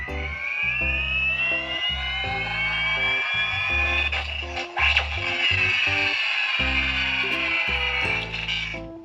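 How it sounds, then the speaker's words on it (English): A Hydra Stomper toy mech gives off electronic mechanical noises: a high, sweeping synthetic whine over rhythmic low pulsing stomps and clanks, loud and close, running continuously. "mechanical noises that are designed to drive parents nuts when their kids do them over and over and over again"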